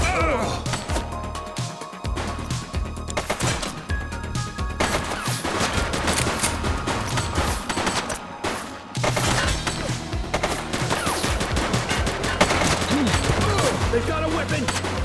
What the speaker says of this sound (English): They've got a weapon! Shots fired!